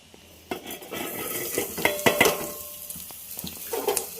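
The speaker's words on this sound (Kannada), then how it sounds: "ಅದೇ ಪಾತ್ರೆಲೇ ಇಟ್ಕೊಂಡು ಸ್ವಲ್ಪ ಎಣ್ಣೆ ಹಾಕಿ, ಆಮೇಲೆ ಸಣ್ಣ ಹಚ್ಕೊಂಡಿರೋವಂಥ ಈರುಳ್ಳಿ" Chopped onions go into oil in a pot, with a spoon scraping and clinking against the metal over a soft sizzle, in close, uneven strokes without speech.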